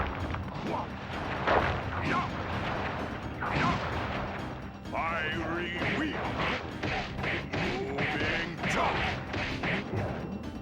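A heavy booming chop attack in a Sly Cooper and the Thievius Raccoonus boss fight, loud impacts and crashes repeating amid dense game music and effects, with no talk over it.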